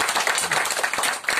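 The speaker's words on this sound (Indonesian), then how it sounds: "Boleh tepuk tangan buat Yesus kita yang luar biasa." An outdoor church crowd claps for Jesus in a dense, steady patter of many hands, close and continuous through the whole moment.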